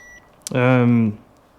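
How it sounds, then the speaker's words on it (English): A single buzzy electronic continuity beep from a multimeter, about half a second long, sounds close and loud against a quiet background. "I got my voltmeter or ohm meter or just meter set up that it beeps when there's a continuous"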